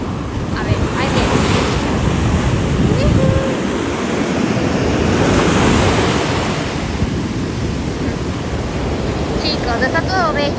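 Ocean waves break and wash up on a beach near Rio de Janeiro, a loud, continuous roar of surf mixed with heavy wind buffeting the microphone, with a swell near the middle and faint voices underneath.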